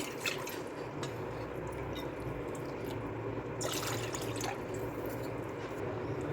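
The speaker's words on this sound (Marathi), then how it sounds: "त्याच्यामध्ये मी त्याच वाटीनं बरोबर तीन वाट्या पाणी मोजून घेत आहे" Water is measured out by the bowlful into a wok, a continuous close pouring and trickling splash with brief drips, running steadily throughout.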